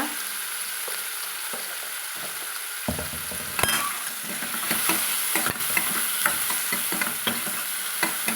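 Chopped tomatoes with turmeric sautéing in a pan, a steady close sizzle with frequent scraping and clinking strokes of a stirring spoon against the pan.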